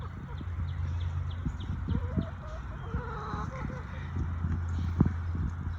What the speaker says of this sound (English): You probably hear our chickens asking for some treats.